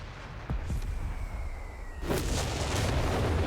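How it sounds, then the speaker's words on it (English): Airburst artillery fire in Company of Heroes 3 booms through a constant rumbling battle soundscape, with a couple of sharp blasts early and a heavier burst of explosions about two-thirds in. "Some airburst coming."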